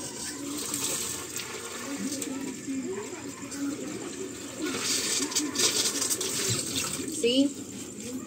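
Tap water running steadily into a container to make ice water, a continuous close splash and gurgle with soft background noise and brief clinks.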